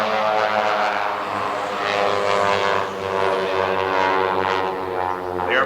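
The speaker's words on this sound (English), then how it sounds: "The airplane markets the Pit Special line of aircraft. These aircraft being modified with a very large Lycoming 260 horsepower engine" A Pitts Special aerobatic biplane, modified with a large 260 horsepower Lycoming engine, drones overhead at an air show, its propeller buzz steady and loud with a slowly shifting pitch and no voices.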